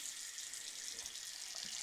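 Water runs steadily from a bathroom faucet with both hot and cold taps open, a faint, continuous hissing splash with no talking.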